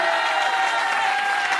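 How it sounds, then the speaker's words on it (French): An audience applauds a musician on the release of an album, with steady, dense clapping filling the short stretch evenly and no voices over it. "on peut l'applaudir"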